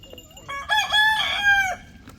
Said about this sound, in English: we just got chickens, y'all. Chickens everywhere.